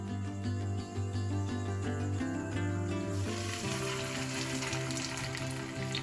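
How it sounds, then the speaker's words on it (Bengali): Poppy seed fritters (posto bora) fry in a pan over medium heat with a steady, even sizzle and faint crackle, close and constant, with no talking and a faint tonal hum in the background. "গুঁড়ো পোস্তর মধ্যে মাখিয়ে ফ্রাইং প্যানে দিচ্ছি"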